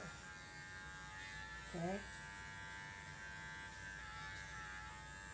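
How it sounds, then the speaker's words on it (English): Electric clippers buzz steadily and close up while trimming a Cocker Spaniel's face hair, a constant humming drone throughout, with a short spoken word briefly over it. "I clean out across the top of the nose and in the corner of the eye with my clipper."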